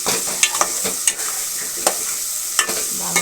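Okra curry stirred in a pan on the stove, with a close, continuous frying sizzle broken by quick scraping strokes of the spoon, several short bursts over a few seconds and no talk.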